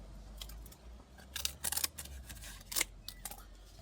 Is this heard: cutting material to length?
yes